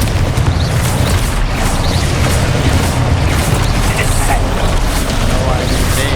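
A Confringo blasting spell in Hogwarts Legacy sets off a dense, continuous rumble of explosions and crackling booms, loud and unbroken across the whole stretch, with a voice talking beneath it.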